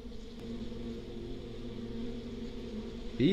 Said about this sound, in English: You're very buzzy, and I'm not gonna stick around to see if you sting me.